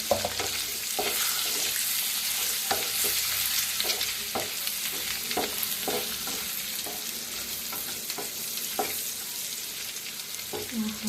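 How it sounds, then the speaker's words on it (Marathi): Eggs frying in a masala of red chilli powder, with a steady loud sizzle throughout and repeated clinks of a spoon stirring against the pan. "फ्राय करून घ्यायची अंडी"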